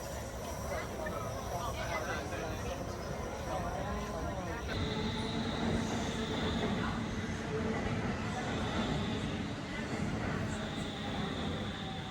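A subway train ride in Stockholm, with a steady rumbling interior drone of the moving car, a shift in tone partway through, and faint tonal whines above the hum.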